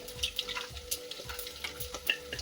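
Curry leaves, green chilies and fenugreek seeds crackling in hot oil for kadhi pakora, a soft, steady sizzle with scattered small pops.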